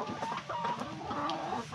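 Chickens on a small egg-laying farm in winter, a flock clucking steadily at close range with overlapping soft calls and no voices.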